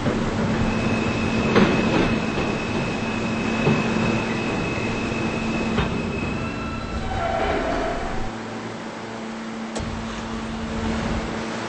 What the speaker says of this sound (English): This is a Potato Burg bound Q Express train.